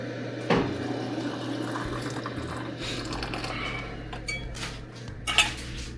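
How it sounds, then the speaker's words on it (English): Boiling water is poured into glass canning jars, with a clink of jars and utensils near the start and the end, and a soft splashing fill in between, close and fairly quiet. "we got some boiling water to fill up the other jars"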